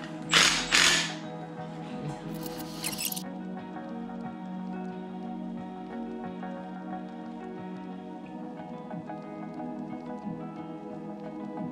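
A ratchet wrench tightens an AC compressor bracket on a BMW E90 during an LT engine swap, with two quick ratcheting bursts near the start. A steady, low mechanical hum continues in the background for the rest of the clip.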